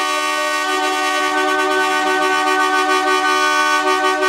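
A loud, sustained marine air horn blast fitted to a Fiat Uno car, with a brassy multi-tone sound, holding steady for over four seconds without a break.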